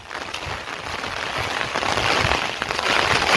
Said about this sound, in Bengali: আজকে সেইভাবেই সেই পরিমাণে বৃষ্টি নেমেই চলেছে